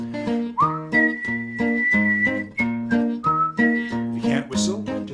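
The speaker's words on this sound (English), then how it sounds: "If you could whistle, do this." Someone whistles a bouncy melodic tune over a steady accompanying beat of backing music, the notes clear and close, in a children's morning song.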